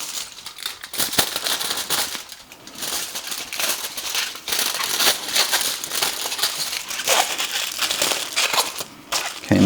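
Aluminum foil being handled and folded during a hair colour strand test, with loud, irregular crinkling and crackling bursts close by, continuing in clusters throughout.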